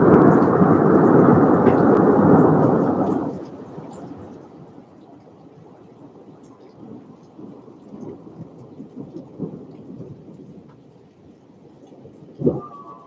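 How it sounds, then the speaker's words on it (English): A nighttime thunderstorm opens with a loud, rolling peal of thunder lasting a few seconds, then settles into steady rain with scattered drips and faint rumbles, and a sharp crack near the end. "So we just had some more thunder and lightning."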